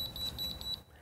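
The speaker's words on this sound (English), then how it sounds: "when you plug the receiver in, you get your four beeps" A rapid series of short, high electronic beeps from a Hunter ROAM remote receiver being plugged in sounds evenly spaced, then cuts off abruptly into quiet.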